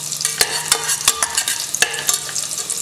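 Ginger fries in a pan for ven pongal with a steady close sizzle, while a utensil stirs and scrapes in sharp repeated clicks over it.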